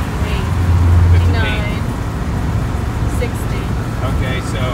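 Inside a 1973 GMC motorhome cruising near 60 mph, the engine at about 2,600 RPM gives a steady low rumble with road noise, while a person talks over it.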